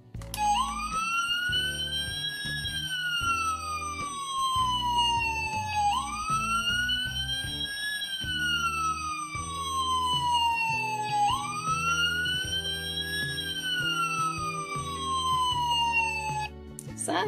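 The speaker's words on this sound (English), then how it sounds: "So, sirens and lights are okay." A wailing toy fire engine siren being tested sweeps up and down in repeated cycles, loud and close, with a second rising tone layered over a busy low rumble throughout.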